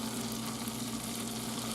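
Food crackles in a deep fryer with a continuous, even, bright sizzle close by and no talking.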